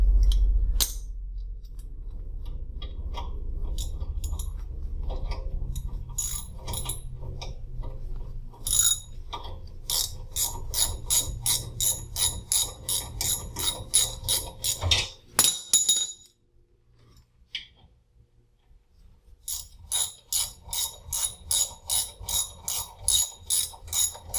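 A ratchet turning a half-inch socket during a Wrangler YJ rear disc brake conversion gives quiet, close bursts of rapid clicking, separated by short pauses and a few metallic clinks.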